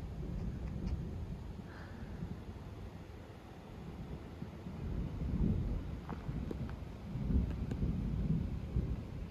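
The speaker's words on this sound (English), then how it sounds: "Oh my goodness, it started raining." Rain and rumbling thunder on a mountain trail, a steady wash of rainfall with low rolling booms swelling and fading, faint and spread out with no voices.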